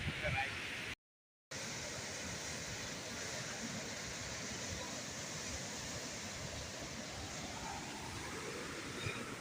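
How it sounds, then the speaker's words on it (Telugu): Water gushes through the opened gates of Jurala dam after very heavy rain, a steady broadband roar that fills the whole stretch without letup, cut off by a brief gap near the start. "చాలా భారీ వర్షంకి గేట్లు అయితే తెరిచిండ్రు. జబర్దస్త్ పోతున్నాయి నీళ్ళు మాత్రము."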